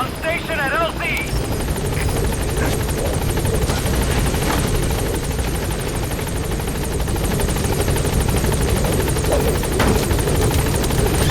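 A B-Quad support helicopter sets down at a landing zone in Metal Gear Solid V: The Phantom Pain, its rotor and engine roar loud and steady throughout with faint voices and game sounds mixed in.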